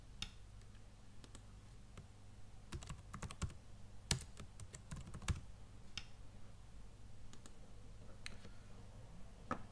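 Computer keyboard typing in irregular bursts of clicks, some louder keystrokes standing out over a steady low hum, fairly close and with no talk.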